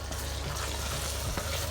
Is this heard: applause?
no